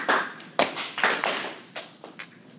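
A single person claps several times at an uneven pace in a quiet room, close and fairly loud, with short gaps between the sharp slaps.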